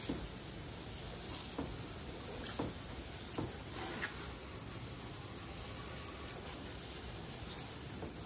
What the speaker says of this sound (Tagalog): babanlawan na natin ng water. Try natin yan. So yan, banlawan lang natin.